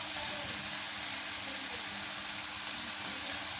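Meat frying in spice masala in a home kitchen, giving a steady, dense sizzle that runs unbroken and fairly close throughout, with no voices over it.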